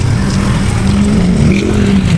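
Motorcycle engine running close by as it is ridden and brought in to park, a loud steady low rumble with a slight rev, and no talking.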